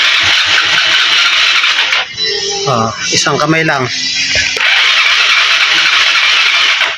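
A Yamaha Mio Sporty scooter that will not start despite a charged battery is cranked twice, each attempt a loud, steady whirring burst of a few seconds, with someone speaking briefly between them.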